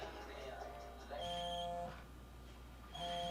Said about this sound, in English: Just answer the fucking phone.